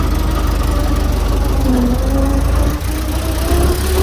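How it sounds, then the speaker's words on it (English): A 1915 Ford Brass Model T engine runs while the car drives, a loud, close, low chugging with a steady rapid pulse and a brief dip partway through. No one speaks over it. "Never thought I'd see the day I'm riding in a 1915 Model T"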